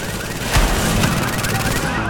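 Gunfire rattles through The Division in a dense, sustained exchange, with a couple of heavier booming shots standing out above steady automatic fire.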